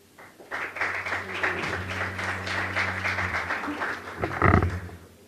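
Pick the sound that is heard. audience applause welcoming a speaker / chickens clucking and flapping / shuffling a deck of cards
audience applause welcoming a speaker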